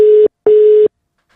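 Telephone ringing tone heard while a call is being placed: two long, loud, steady electronic tones separated by a short gap, then silence.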